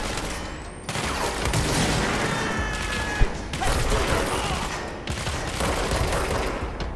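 Sustained gunfire from the video game Control, dense rapid bursts of shots with sharp cracks running almost continuously, loud and close, with a brief pause near the start and a few gaps between volleys.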